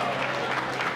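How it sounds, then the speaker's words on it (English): A group applauds a student named Kanchan during a school's annual report presentation, a short burst of steady clapping at moderate loudness. "a special applause for Kanchan"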